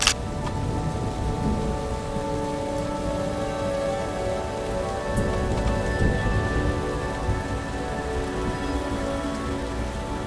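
Heavy rain pours steadily in the Grand Teton mountains, a dense continuous roar of drops on surfaces with no break across the whole stretch, loud and close, with no voices.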